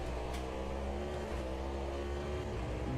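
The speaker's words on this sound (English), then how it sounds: "the downshift sounds in this car are just so nice." Race car with a naturally aspirated V8 downshifting in Automobilista 2 at Daytona, a steady loud engine drone with shifting harmonics running throughout, no talk over it.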